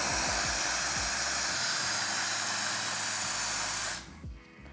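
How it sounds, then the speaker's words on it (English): An espresso machine's steam wand, rated up to 2 bars of steam pressure, blasts a loud continuous hiss for about four seconds, then cuts off abruptly, leaving faint mechanical clicking and a low hum. "It's powerful steam. Steam that can make really good milk drinks."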